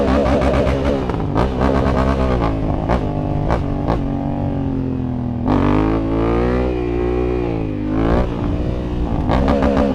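Honda Africa Twin motorcycle revving hard to lift a wheelie on a central London street, a loud, close engine surging and dropping through several throttle blips, rising pitch sweeps dominating throughout.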